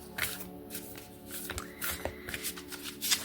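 Oracle card decks being shuffled by hand, a close, crisp riffling and flicking of cards in quick irregular bursts with soft handling noises between.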